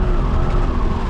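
A Jaguar car with stability control switched off spins one wheel, a loud, steady close engine roar and tyre whir with no pauses.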